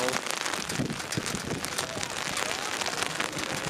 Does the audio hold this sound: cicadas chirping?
no